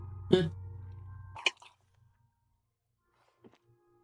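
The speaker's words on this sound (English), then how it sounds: "Your body curls and pushes it out, burst by burst, until a pool of vomit lies under your feet" A character retches and vomits in Disco Elysium, a wet gagging burst over a low droning hum, then a second short heave and a few faint splatters before near silence.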